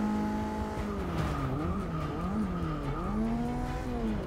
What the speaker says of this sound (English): Oh, I really have to slam on the brakes right now.